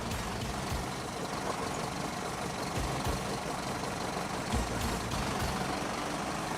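Unimog truck engine running steadily as it drives onto off-road terrain, a continuous broadband rumble with no breaks, fairly loud and close, no talking.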